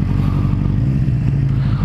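Motorcycle engine rumbling continuously as the bike rides off-road in a video game, a steady low drone with uneven clattering over the whole stretch.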